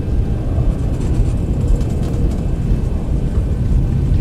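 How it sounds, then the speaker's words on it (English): Boeing 737 engines spooling up for takeoff in the X-Plane 12 simulator with ZiboMod, a loud, dense low roar that holds strong and steady with slight fluctuations, no speech over it. "Engines coming up."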